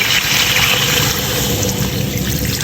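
Water pours steadily into a cooking pot for Thai-style chicken rice, a dense, even rushing splash that holds for a few seconds with no talking.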